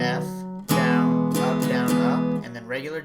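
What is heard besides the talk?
No distinct noise like a dog, phone or traffic.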